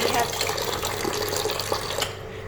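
Running tap water splashes steadily over cut potatoes being rinsed in a bowl for French fries, a continuous close wash that stops abruptly near the end.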